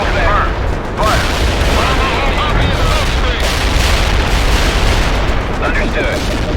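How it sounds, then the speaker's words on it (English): Booming artillery barrage in the war strategy game World in Conflict, dense continuous explosions and rumbling impacts filling the whole stretch at close, loud level, with radio-style voices talking over the bombardment. "Artillery barrage in full effect."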